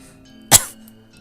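A single short, sharp cough or retch bursts out in a near-silent moment, close and abrupt, then fades quickly.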